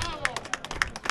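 Scattered hand claps from a small crowd at an amateur football match, Borgo against ASD Ravagnese, greeting a low shot that skims past the crossbar; a handful of sharp, uneven claps over a brief stretch, fairly faint.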